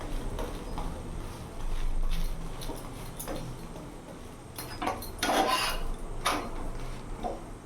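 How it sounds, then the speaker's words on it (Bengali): An egg roll frying in a pan while its sides are pressed down, with rough scraping and rubbing bursts over a steady low sizzle, clustered mid-clip and near the end. "এইভাবে সাইডে চেপে চেপে আমি সাইডগুলো ভেজে নেবো যাতে আমার কাঁচা না থাকে"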